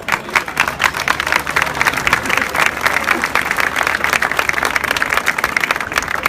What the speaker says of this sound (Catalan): Un fort aplaudiment a totes les víctimes que hi ha al Mediterrani